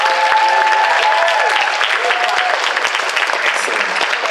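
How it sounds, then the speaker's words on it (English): Audience at a 2015 RahCon cosplay competition breaks into steady, dense applause, loud and close, with faint crowd voices and a brief cheer over the clapping. "a round of applause for Jessica Peacock dressed as Greg"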